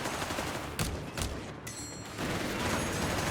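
Automatic gunfire in the real-time strategy game Company of Heroes 3, a dense continuous rattle of bursts and explosions filling the mix at moderate volume with no talking.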